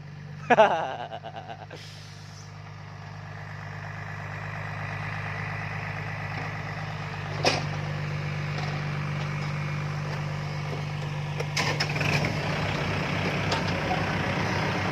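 A six-wheel dump truck engine idles and rumbles steadily while being waved in and manoeuvred, a low continuous drone with a sharp knock early on and a few clatters later, fairly close.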